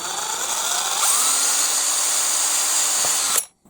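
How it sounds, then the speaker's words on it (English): A small power drill with a 2mm bit whines steadily for about three seconds while drilling holes in a Bruder CAT excavator RC model turntable, then stops abruptly. "Just going through with a 2mm drill bit."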